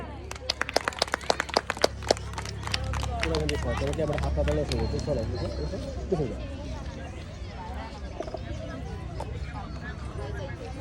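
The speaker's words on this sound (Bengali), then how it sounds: "সবাই একটু হাততালি দেবেন" A crowd at a village game in a Bengali premier league event claps hands, sharp scattered claps early on giving way to a murmuring, chattering crowd with voices talking throughout.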